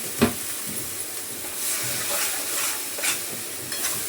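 Masala paste sizzles and fries in a hot pan while a spoon stirs it, giving a steady close hiss with a few scraping strokes and soft knocks, and no voices.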